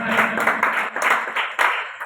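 Loud congregational clapping in a church service, a dense, continuous patter of many hands with rhythmic surges, filling the room without talk.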